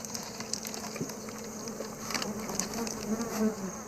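Bees buzz densely around a wild hive during a honey raid in Niassa, a continuous close swarm drone with shifting pitch and rising intensity toward the end.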